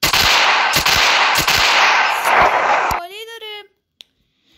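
A Colt Python .357 revolver fires several sharp, loud shots over heavy, continuous noise, followed by a brief voice and then quiet.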